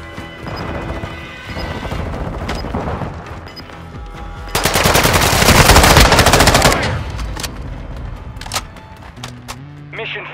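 Sustained automatic gunfire and crashing impacts from the Call of Duty video game, a dense loud burst of rapid shots in the middle with sporadic single shots before and after, with radio-style voices speaking in the mix.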